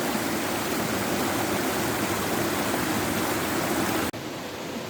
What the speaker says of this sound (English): And some gentle trickling through the rocks.